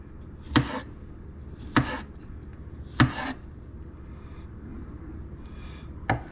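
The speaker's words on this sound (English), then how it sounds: "But watch what happens when I cut this mushroom" A knife slicing through a wild mushroom on a cutting surface in a Florida outdoor setting: four crisp, separate cuts spaced about a second or more apart, close and clear against soft background hiss.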